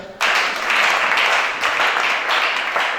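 A church congregation at a worship service claps and cheers together, a loud, dense wash of applause that begins abruptly and carries steadily to the end with slight swells.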